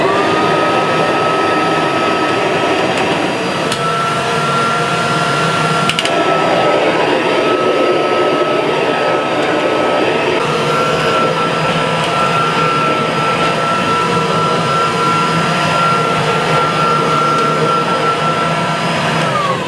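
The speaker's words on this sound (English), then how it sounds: "I'm going to run the vacuum cleaner through." A Kirby vacuum cleaner fitted with a beater bar runs across carpet strewn with wires, a loud, steady motor whine and rushing airflow that carries on unbroken from start to finish, with occasional faint clicks.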